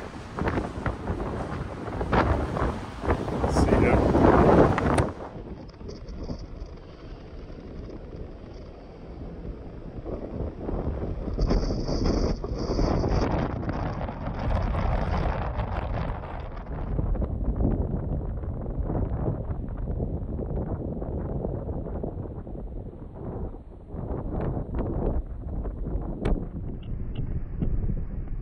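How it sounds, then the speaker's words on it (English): Strong stormy wind buffets the microphone in gusts over a low rumble of a moving ferry and waves approaching Dover, and a voice speaks briefly. "wind and the waves as we come into Dover."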